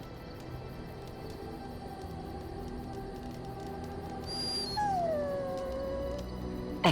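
In Dragon Age: Origins, a dog lets out a drawn-out whining howl that slides downward in pitch. It rises from a low ambient background near its end, followed by a brief thump.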